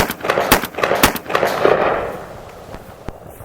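A Panzer Arms SCR XII 12 gauge semi-automatic shotgun fires a magazine of rounds: about half a dozen loud, close, sharp blasts in quick succession, each with a ringing outdoor decay, the last shot standing apart before the sound fades.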